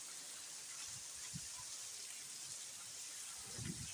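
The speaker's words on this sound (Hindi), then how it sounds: "ये तो अभी हो रही है ना बारिश।" Soft, steady rain hisses evenly throughout, with a few faint low thumps in the background; quiet and continuous, no voices.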